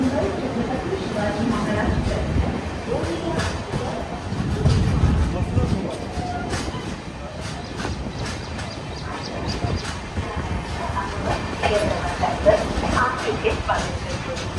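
The Vidarbha Express, a passenger train on the Mumbai to Gondia route, runs along the rails with a steady rumbling, clattering roll lasting throughout, with people talking faintly over it.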